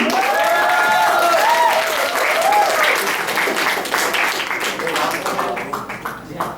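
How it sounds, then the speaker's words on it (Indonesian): An audience at a school event breaks into loud, sustained applause, many hands clapping close and dense, with a few voices and cheers rising briefly before the clapping slowly thins out. "Mari kita sambut dengan tepuk tangan yang meriah Safira Larasati."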